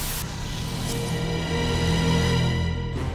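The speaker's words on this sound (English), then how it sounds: "The grinding of scales rubbing together. That's the sound of the saw-scaled viper" Saw-scaled viper rubbing its keeled scales together, a steady harsh rasping hiss that runs continuously for a few seconds, dense and close, without speech.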